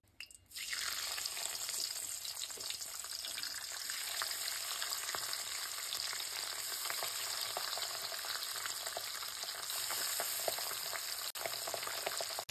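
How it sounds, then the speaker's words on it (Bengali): A second batch of pabda fish fries in oil with a steady, loud sizzle and crackle that runs unbroken for the whole stretch, no one talking. "সেম প্রসেসে লাইট ব্রাউন করে সেকেন্ড ব্যাচের মাছগুলো আমার ভাজা হয়ে গেল।"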